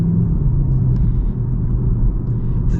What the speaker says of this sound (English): I'm gonna pop into the manual mode. Feel the shifts with the DSG.